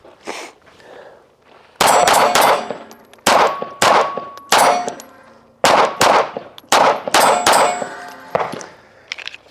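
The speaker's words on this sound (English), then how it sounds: "So we're gonna shoot some Winchester Silvertips." Smith & Wesson Performance Center Bodyguard 2.0 Carry Comp pistol firing Winchester Silvertip hollow points at steel targets, a rapid string of about a dozen sharp shots, each followed by a ringing metallic clang.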